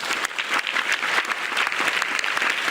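An audience applauds during a talk on youth and national defense, a loud, dense, continuous roar of many clapping hands that holds steady throughout with no speech over it.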